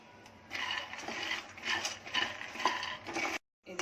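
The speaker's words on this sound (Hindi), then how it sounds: "मीडियम गैस पे अपने शेंगदाने भून के लूंगी पहले" Peanuts roasting and stirred in a pan over a medium gas flame, giving a steady scraping, rustling texture with irregular clicks and rattles, moderately close, with a brief drop to silence near the end.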